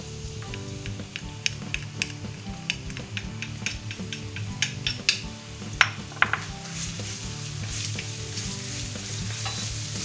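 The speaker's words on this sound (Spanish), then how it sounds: "echamos dentro el jengibre y el ajo" Ginger and garlic fry in hot sesame oil with a bright continuous sizzle, while a utensil stirs and taps against the pan in scattered clicks, with no speech.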